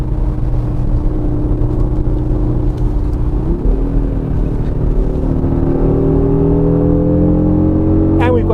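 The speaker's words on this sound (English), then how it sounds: "And we've got that 5-cylinder howl going on." Audi RS Q3 Sportback with a 5-cylinder engine, heard from inside the cabin: a loud, deep engine drone rises steadily as the engine revs and accelerates, with pitch climbing toward the end.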